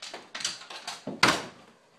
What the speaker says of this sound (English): Shut the door.